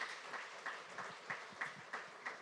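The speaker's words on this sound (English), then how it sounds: "Quick round of applause for Ken on the book deal." Light applause from a live audience at a book event stage, faint and somewhat distant, with a few hands clapping in a loose, slightly rhythmic pattern and no talk on top.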